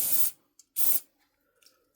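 Two short bursts of a spray can hissing, close and loud, sealing a gap during a Stanier Mogul steam locomotive restoration, separated by a brief pause, then quiet with faint rustling.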